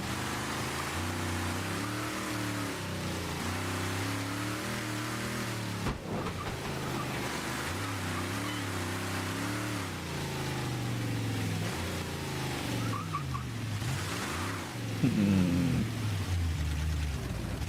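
Car engine in the video game Mafia III straining as it climbs a hill, a steady loud drone with shifting tones that rise and fall throughout, with no talk over it.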